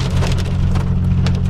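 Hail falls in the mountains, pattering densely and steadily on surfaces nearby, with sharp clicks over a low continuous hum, loud and close, and no one speaking.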